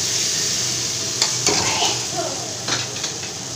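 Fried potatoes sautéed in a pan for fish head curry, a steady hiss of sizzling with a few sharp scrapes and clinks of a spoon stirring against the pan, close and alone.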